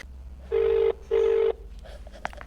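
Two long, evenly spaced electronic ring tones of an outgoing telephone call, loud and clear, each lasting about half a second, followed by faint room noise.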